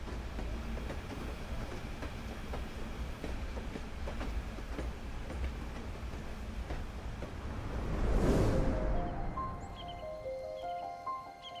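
A train in Zambia rumbles and clatters steadily along the rails, then a brief louder rush passes before fading into a softer squealing tone.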